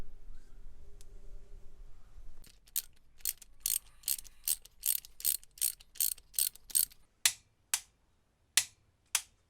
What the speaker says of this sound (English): We're just winding the motor over.